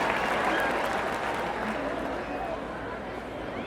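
Steady applause with cheering from a large crowd at a Kenyan political rally in Gusii, Nyamira, held with President Ruto present, sustained and loud throughout with the noise of the crowd blending in.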